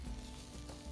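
Baby corn, carrot juliennes and baby shallots sizzle in hot oil and masala while being stirred, a steady close frying hiss with faint scraping throughout.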